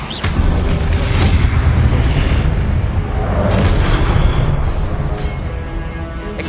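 A long, loud rumbling blast from a Confringo fire spell in Hogwarts Legacy, dense booming explosions rolling continuously with heavy low-end crackle.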